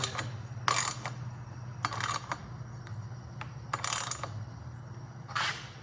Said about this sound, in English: Just gonna give these a little tighten by hand here.